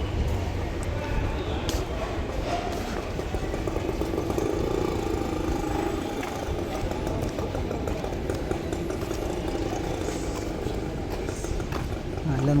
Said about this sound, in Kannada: ಅಲ್ಲೊಂದು ಗಾಡಿ ಬರ್ತಾಯಿದೆ